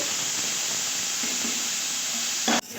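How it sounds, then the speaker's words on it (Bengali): Potatoes fry in hot oil with a continuous bright sizzle and hiss, steady and close, ending in a brief louder clatter. "আলুটা আমি ভালো করে তেলের মধ্যে ভেজে নিচ্ছি"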